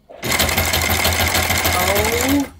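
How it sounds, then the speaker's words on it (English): Sailrite Ultrafeed LSZ-1 sewing machine zigzag stitching through seven or eight thick layers of material: a loud, close, steady motor whir with rapid needle clatter running for about two seconds, then stopping, with no talking. "This is like at least 7 or 8 layers. Okay. Let's do our little zigzag."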